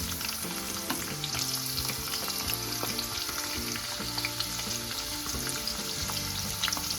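Garlic, curry leaves and onions fry in a hot pan for a dal and potato fry meal, giving a steady close sizzle with scattered stirring clinks and scrapes, no voices.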